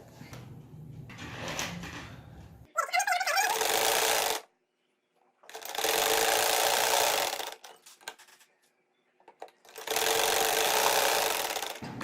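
Sewing machine stitching piping onto a boat neckline, loud fast whirring runs in three bursts separated by pauses, with faint handling sounds between.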